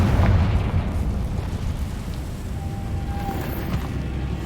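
Confringo fire spell exploding in the Hogwarts Legacy video game, a loud booming burst that rolls into a sustained rumbling roar with no speech over it.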